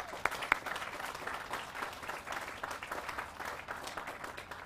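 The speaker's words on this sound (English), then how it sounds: "So give them all a round of applause too." An audience applauds at a mayor's press conference for a jazz dedication, a fairly faint, continuous patter of clapping with a couple of sharper claps near the start.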